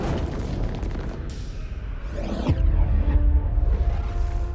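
A deep, rumbling boom from a meteor airburst explosion, a low roar swelling under a swooshing sweep.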